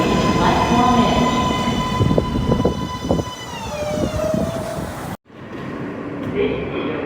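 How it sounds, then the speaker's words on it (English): A New York subway L train arriving at the station, bringing a loud rolling rumble, high metallic screeching and squealing brakes as it slows, then a brief cut to quieter platform noise, with voices and announcements mixed in. "the next Brooklyn-bound L train is now arriving"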